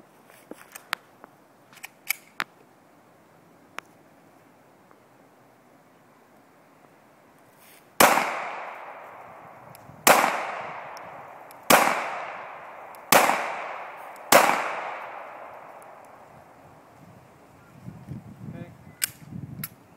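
Five loud handgun shots fired at a target on a range, comparing the accuracy of two concealed-carry pistols, spaced about two seconds apart, each with a sharp crack and a short decaying tail, between quieter handling noises.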